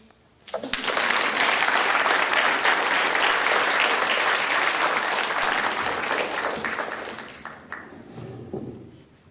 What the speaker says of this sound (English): So let's please give them another round of applause.